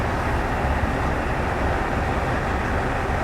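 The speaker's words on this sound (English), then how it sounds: "this is a New Zealand train sitting in the Japanese countryside" New Zealand train in the Train Simulator Classic game, a steady dense rumble of the locomotive and rolling wagons, constant and fairly loud with no break.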